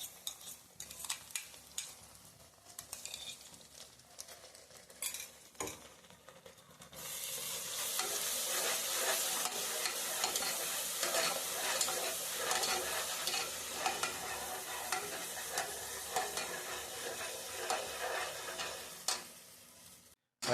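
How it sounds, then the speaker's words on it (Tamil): Ginger garlic paste stirred in hot fat for mutton biryani: scattered scrapes and taps at first, then a steady, loud sizzle with ongoing stirring that runs to the end. "இஞ்சி பூண்டு பேஸ்ட்டு அரைச்சி வச்சதை நம்ம அதில் ஆட் பண்ணி மிக்ஸ் பண்ணி நம்ம அதை நல்லா கிளறி விட்டுக்கலாம்."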